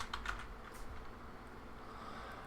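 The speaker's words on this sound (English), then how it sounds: "And I'm going to type in summative." Typing on a computer keyboard while entering text into a grading web form, with a short burst of keystrokes at the start giving way to quiet, steady background noise.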